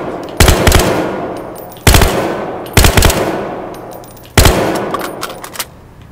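Automatic gunfire at a shooting range in Battlefield Hardline, fired in four loud, sharp bursts with short pauses between them, each burst decaying into a brief echo.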